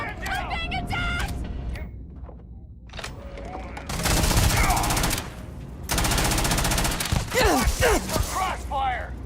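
Rapid bursts of gunfire crossfire in Starfield, loud clattering volleys in two dense stretches, with shouting voices and other talk in between and over the shots.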